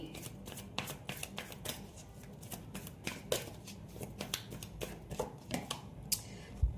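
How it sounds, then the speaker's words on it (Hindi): Tarot cards being shuffled and laid out for a reading, quiet rapid riffling and soft flicks and taps close by, continuous and without talk. "यहाँ पर हम रख लेते हैं कार्ड्स को"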